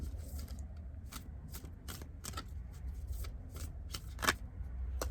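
An Angels and Ancestors oracle card deck being shuffled, with quick papery riffles and soft card slaps repeating in bursts, close and fairly quiet over low background hum.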